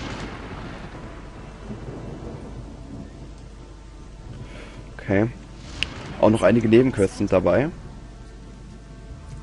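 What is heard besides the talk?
thunderstorm in the Gothic 2 video game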